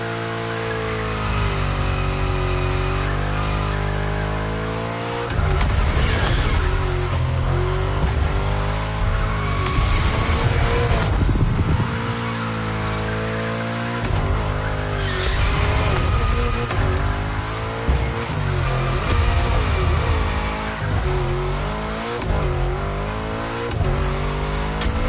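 Car cornering under throttle in the video game The Crew Motorfest, with the engine revving up and down in repeated sweeps, bursts of acceleration and tire noise, and a loud, continuous sound throughout.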